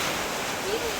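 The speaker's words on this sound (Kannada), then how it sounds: "ಫುಲ್ ಗಾಳಿ ಮಳೆ ನೋಡಿ, ಎಲ್ಲ ಫುಲ್ ಹಾರಾಡ್ಕೊಂಡು ಹೋಯ್ತವ್ರೆ." Strong wind and rain during a family trip to Tirupati, a dense, steady roar of gusting air and rainfall filling the brief moment with no voices.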